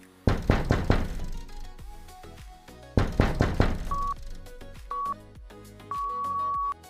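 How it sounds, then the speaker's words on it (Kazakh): Two bursts of three firm knocks on a door, each group followed by quiet, with a faint musical tone underneath at times. "Есіктің қағылуы."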